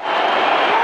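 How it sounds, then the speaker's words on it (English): A cricket crowd roars and cheers for Brendon McCullum's century in a T20 international against Australia at Christchurch, a broad steady wash of massed voices throughout. "The crowd's going nuts here."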